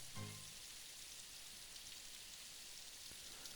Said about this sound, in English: muffling the sound of the rain on the pavement